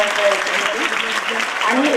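A school alumni gathering in a hall applauds, dense steady clapping from a large crowd throughout, with voices calling out faintly over it.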